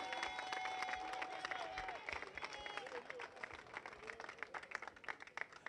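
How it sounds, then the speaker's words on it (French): Crowd at an outdoor political meeting clapping and cheering for a newly introduced supporter, a lively sustained burst of applause with whistles and shouts mixed in, fading into scattered claps toward the end. "Applaudissez pour lui."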